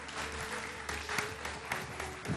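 A studio audience at a televised Iftar game show gives hearty applause, a continuous, fairly quiet crackle of clapping with a faint steady tone beneath and a few sharper claps standing out.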